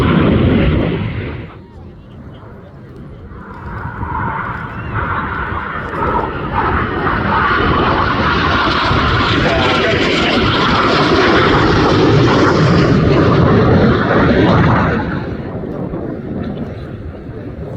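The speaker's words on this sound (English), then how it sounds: "Let's count the aircraft" RAF Red Arrows aerobatic jets roar overhead at an air festival, a loud sustained jet rumble that swells and holds for most of the pass before easing, with crowd chatter and commentary underneath.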